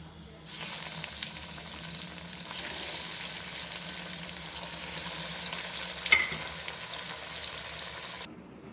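Flattened rice pakoras deep frying in oil, a dense, steady bubbling hiss that holds evenly close by, with one brief clink partway through.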